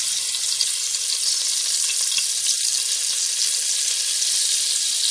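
Ginger, galangal and herb pieces fry in very hot oil for a ginger-scented dish, a continuous loud close sizzle and crackle with no voices.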